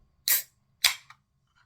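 A can of Coke, likely cherry-flavoured, is cracked open in two sharp bursts of fizz and hiss about half a second apart, with a small click after the second, close and alone in a quiet room.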